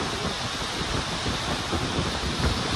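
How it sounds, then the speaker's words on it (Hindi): Very heavy rain pours down in a steady, dense roar that stays loud and unbroken throughout, with no voices over it. "बहुत तेज बारिश हो रही है भाई।"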